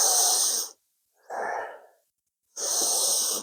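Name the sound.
deep breathing during shoulder rolls in yoga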